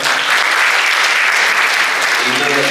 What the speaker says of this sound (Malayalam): പ്രൊഡ്യൂസർമാർക്ക് രണ്ടുപേർക്കും വലിയൊരു കയ്യടി കൊടുക്കണം